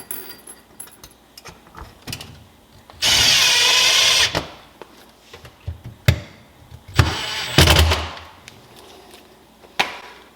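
A power drill drives screws into a kitchen cabinet while a pull-out shelf is retrofitted. Two loud whirring bursts, a second and a shorter one, are surrounded by clunks, clicks and handling knocks, with no talk.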